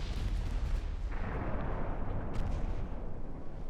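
Battleship guns firing HE shells in the naval game Ultimate Admiral Dreadnoughts, a dense rumbling barrage of distant booms and blasts with no clear pauses, fairly faint.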